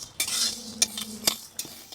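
A spoon stirs lentils frying in a pan on low heat, making several close, gritty scraping strokes with light rattling between them.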